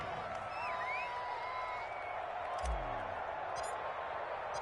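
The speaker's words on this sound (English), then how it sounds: "How about some applause for the defense there?" Crowd applause and cheering from a televised football video game stadium swell as a steady, distant wash of noise, with a brief low thump partway through and faint whistles above the roar.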